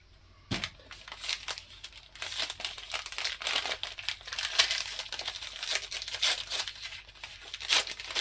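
Crinkly plastic and paper packaging from an N scale Otter Valley Railroad model train mystery box is rustled and torn open up close, a steady run of crackling and tearing with a sharp snap near the start.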